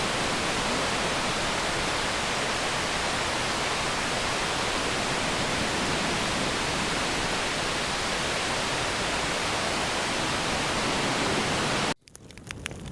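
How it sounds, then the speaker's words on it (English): Falling Springs Falls, an 80-foot waterfall spilling into a lush gorge, gives a loud, steady, broadband roar of falling water that holds unbroken until it cuts off abruptly near the end. "we stopped at Falling Springs Falls, a stunning 80-foot waterfall that Thomas Jefferson himself once described"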